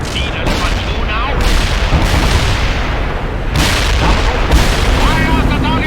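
Tank cannon fire in the real-time strategy game World in Conflict, with Leopard 2 tanks in action: repeated heavy booms and rumbling blasts in a dense, loud battle mix, with voices talking over it.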